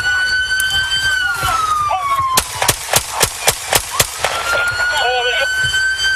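Police shootout with a suspect: a quick run of about eight sharp gunshots fired over a wailing police siren, with officers shouting throughout.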